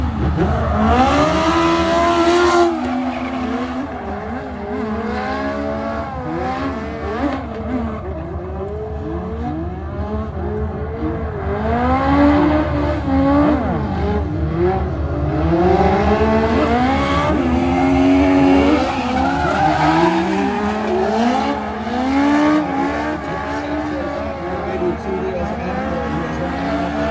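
Race cars at SEMA 2025 accelerate hard and skid, engines rising and falling in repeated revving sweeps with tire noise, loud and continuous, while a voice talks over the action.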